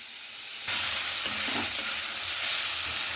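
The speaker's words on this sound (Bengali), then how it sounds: "প্রথমেই আমি চাউমিনগুলো ভেজে নিচ্ছি।" Chow mein noodles sizzle loudly in a hot wok, a constant crackling hiss with a few soft clinks of stirring, close up and without talk.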